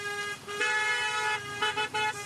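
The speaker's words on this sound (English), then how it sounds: "Those cars are really honking like crazy." Car horns honking repeatedly along the course of the Antwerp Port Epic 2023 cycling race, a steady toot with sharper blasts near the end, loud and with no talk over it.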